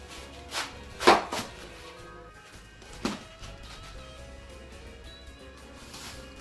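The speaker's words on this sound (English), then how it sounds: "We're going to slice some cabbage." A knife slices through cabbage on a board: two or three crisp, close cuts stand out over a quiet kitchen background.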